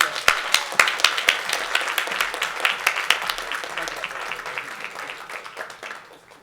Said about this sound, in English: Let's get all of them another round of applause.